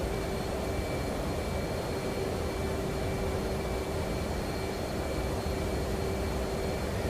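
An F/A-18D Hornet jet in the DCS flight simulator flies just after takeoff, making a steady, loud, broadband engine roar with a faint high whine that holds constant throughout.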